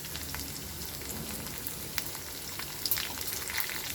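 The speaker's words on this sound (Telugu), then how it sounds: "ఆ వెల్లుల్లి వేసేయాలి ఇందులోకి" Cut garlic frying in oil in a pan, a soft continuous sizzle with scattered pops and a few louder crackles toward the end, close up with no talking.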